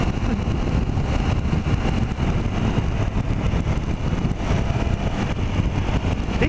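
Steady onboard drone of a 2015 Triumph Tiger 800 XRX triple-cylinder motorcycle under way, loud and continuous with road and wind noise blended in, nobody speaking.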